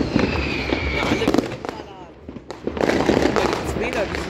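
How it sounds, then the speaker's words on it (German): Firecrackers exploding at a New Year celebration: a dense run of sharp, crackling bangs, some near and loud, others farther off, with a brief lull midway and people talking over them. "Sind das Knaller?"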